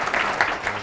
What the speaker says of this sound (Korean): 오성민 선배 사원을 큰 박수로 맞이해 주시기 바랍니다.